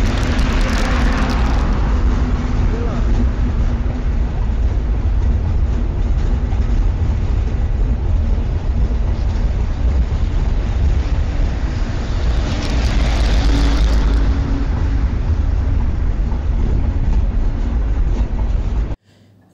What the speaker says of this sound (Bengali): যমুনা সেতুর উপর দিয়ে কচ্ছপের গতিতে ছুটে চলেছে আমাদের ট্রেন।